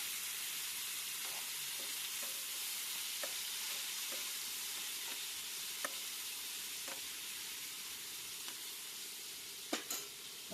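Chopped tomatoes fry with potatoes in a pan, giving a soft, steady hiss of sizzling oil with occasional light taps and scrapes of a spoon, and a couple of sharper knocks near the end.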